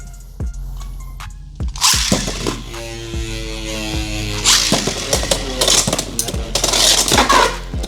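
Beyblade X spinning tops clashing in a stadium, with sharp metallic clicks and impacts over a whirring hum, loud and close, with a person talking over parts of the battle.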